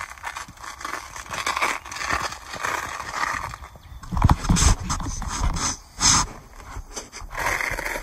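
Velcro on an armor plate carrier for Serbian Level III plates tears open in several rough ripping bursts between scuffing and handling noises, close and with no talk.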